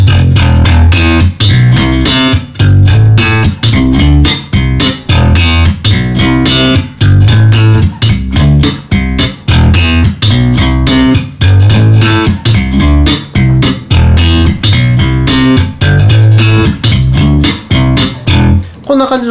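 Slap bass guitar practice phrase built on octave technique, a one-bar pattern repeated continuously with dense, punchy percussive plucks and pops at a steady rhythm, loud and close, with no talking.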